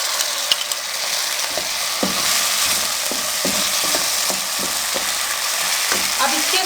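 Chili sauce and tomato ketchup hit a hot pan in an Aloo Manchurian preparation, giving a loud, steady sizzle with a series of scraping stirs and light clicks of the spoon against the pan.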